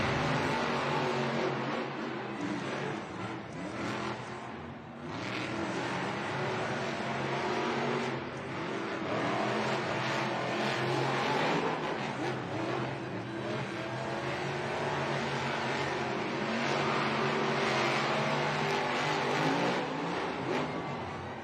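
Monster trucks racing at a Monster Jam event, including Megalodon Stars and Stripes: a continuous loud roar of big engines revving and surging without letup, with steady crowd and arena noise beneath.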